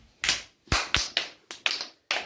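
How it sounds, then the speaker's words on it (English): Children clap for themselves with a handful of sharp, separate claps in an uneven rhythm, close by and fairly quiet, with no talking over them. "Clap for yourself."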